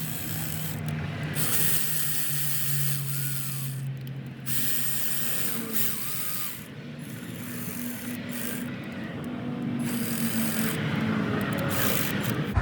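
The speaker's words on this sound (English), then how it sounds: "I really don't torque them, I just get them snug. I use the battery ratchet." A battery-powered ratchet runs down thermostat housing bolts on a 2014-2020 GM truck engine (Silverado, Sierra, Tahoe, Yukon, Escalade), a loud close whirring buzz with several short bursts and pauses.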